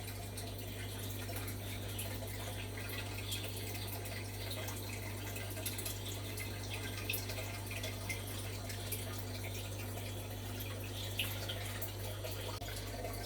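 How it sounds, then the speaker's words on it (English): A running aquarium water pump keeps up a steady low hum, with water trickling and splashing softly over it, continuous and close with no voices. "My super silent water pump."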